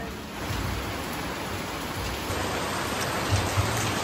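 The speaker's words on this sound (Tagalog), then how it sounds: "Lakas ng ulan!" Heavy rain pours down steadily during a storm in the Philippines, a dense, even hiss close by with a couple of louder drips or splashes near the end and no voices.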